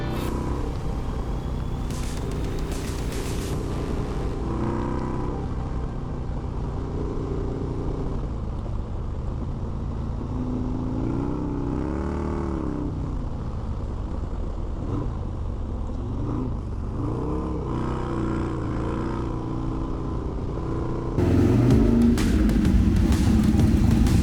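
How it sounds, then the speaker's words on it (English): A Harley-Davidson Sportster motorcycle rides along with a steady engine rumble and wind roar throughout, pitch shifting as it accelerates, and louder gusts of wind near the end, without any talking. "Boy, do I just love this Sportster."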